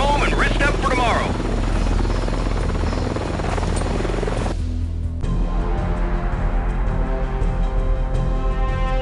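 A helicopter flies in the PC game Delta Force: Black Hawk Down, a loud, steady rotor drone running throughout while a voice talks over it.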